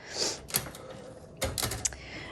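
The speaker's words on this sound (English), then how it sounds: "how hard these type bars will strike your paper" A 1970s Adler J5 manual typewriter strikes its type bars against paper, making a few sharp, close metallic clacks, two in quick succession, with quiet gaps between them.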